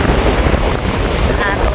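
Strong wind buffeting the microphone by the sea where boats are pulled up ashore, a loud continuous roar of gusts mixed with surf, with no clear pauses.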